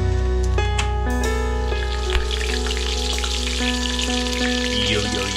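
Spring rolls frying in hot oil in a pan, giving a steady close sizzle and crackle that runs continuously, with a light stir partway through.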